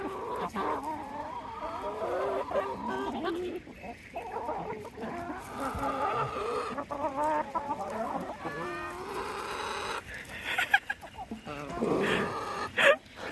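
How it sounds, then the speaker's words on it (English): Chickens cluck and murmur nearby in a busy farmyard, with occasional louder squawks and people talking faintly in the background. "Chickens!"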